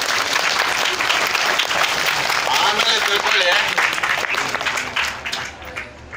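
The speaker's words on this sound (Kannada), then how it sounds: "ಎಲ್ಲ ಒಂದು ಜೋರಾಗಿ ಚಪ್ಪಾಳೆ ತಪ್ಪಬೇಕು ಅವ್ರಿಗೆ" Loud, dense applause from an audience fills the room, sustained throughout before tapering off at the end, with someone speaking briefly over it.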